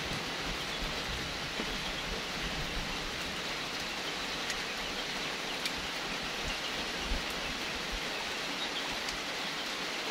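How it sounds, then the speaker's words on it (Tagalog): Heavy rain pours down steadily and loudly for the whole stretch, a dense unbroken hiss with no voices. "ang lakas ng ulan"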